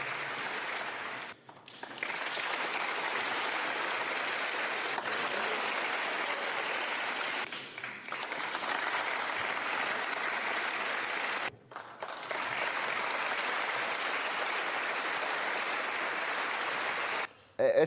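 Lawmakers of the French Congress gathered at Versailles break into long rounds of dense applause during a presidential speech, sustained steady clapping cut by several brief pauses between excerpts, heard from a distance in a large hall.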